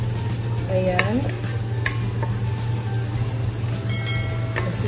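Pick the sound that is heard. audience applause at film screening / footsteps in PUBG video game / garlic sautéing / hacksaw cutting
garlic sautéing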